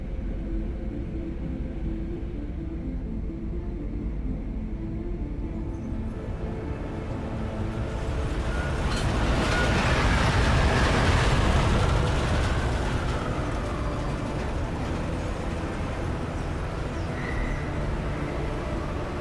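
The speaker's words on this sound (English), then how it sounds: "Just getting off the train now." A train ride in the video game Deus Ex Mankind Divided: a continuous low rumble and rolling clatter that swells in the middle with a rising whine, then settles back to a steady hum.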